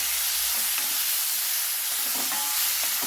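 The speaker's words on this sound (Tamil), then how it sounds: "இப்போ நம்ம இந்த சிக்கன் அப்படியே இதை பெரட்டி விட்டுடலாம்." Chicken pieces sizzle loudly in a kadai while being stirred, with a bright continuous hiss and a few scraping and clattering stir sounds.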